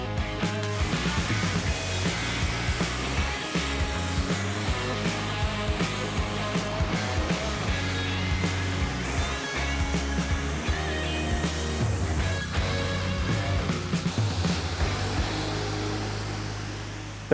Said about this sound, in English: come back and use the pressure washer to clean it off